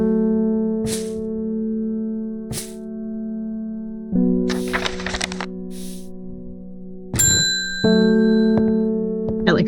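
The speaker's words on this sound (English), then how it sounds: "I like how sometimes the bell scares the kitty." A bell in the Strange Horticulture video game rings several times over a steady musical drone, with brief bright strikes and a few clattering, crackly game effects between them, no speech.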